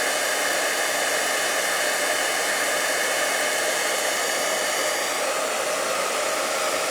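Embossing heat tool blasting hot air to melt embossing powder on paper for a craft project: a loud, steady, unbroken blowing roar close up, running the whole time with no talk.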